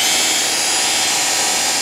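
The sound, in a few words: drill with foam pad polishing aluminum wheel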